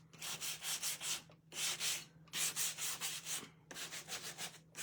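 Rhythmic back-and-forth sanding scrapes against painted wood for a distressed finish, fast regular strokes in bursts separated by short pauses, close and steady over a faint hum.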